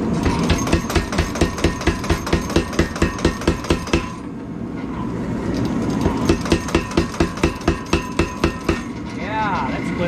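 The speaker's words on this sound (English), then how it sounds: "I'm going to take it to the anvil, straighten it out" Hammer striking a fantasy dagger blade on an anvil, loud evenly spaced ringing blows in a steady rhythm, pausing briefly and then resuming with another run of strikes.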